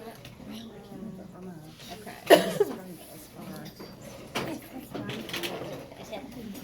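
A pet bird coos in a room where people are talking, with one brief, fairly loud call standing out partway through over the steady murmur of speech.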